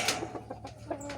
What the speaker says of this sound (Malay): Jadi hari ni kita akan keluarkan ayam RIR pula.